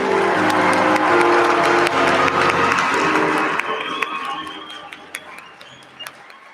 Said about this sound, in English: Can we have a round of applause to show some excitement for all of your achievements?